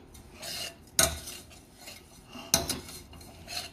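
Melting sugar caramelizing in a pan for Christmas fruit cake is stirred with a metal spoon, giving two sharp clinks against the pan amid soft scraping strokes.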